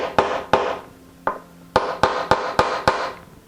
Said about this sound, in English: I will do it with a wooden block and a small mallet.